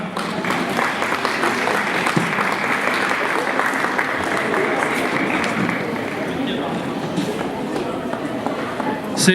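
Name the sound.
audience applause at a cat show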